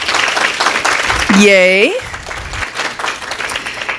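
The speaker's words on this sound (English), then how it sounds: "Let's give them a round of applause." A church congregation applauds its volunteer ground crew with sustained clapping, while a single voice lets out a short cheer partway through before the clapping carries on more softly.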